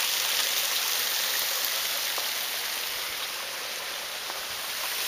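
A year-round California stream flows with a steady, even rush of water, a continuous close hiss with no voices.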